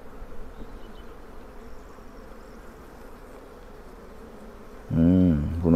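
Honeybees buzz around an opened beehive, a soft continuous hum in the background, before a voice cuts in near the end.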